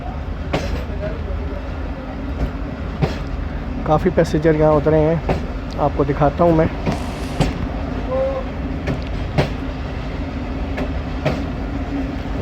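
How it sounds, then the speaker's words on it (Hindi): Attock Passenger train departing Sulemanabad railway station, rumbling steadily on the platform line with occasional horn-like tonal bursts, under someone talking nearby throughout. "सुलेमानाबाद रेलवे स्टेशन से 202 डाउन अटक पैसेंजर डिपार्ट कर रही है"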